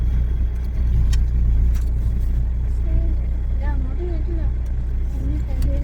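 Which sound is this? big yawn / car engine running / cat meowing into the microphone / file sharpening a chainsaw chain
car engine running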